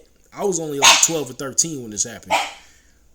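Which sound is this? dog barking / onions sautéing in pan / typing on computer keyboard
dog barking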